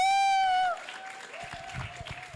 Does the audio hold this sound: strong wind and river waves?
no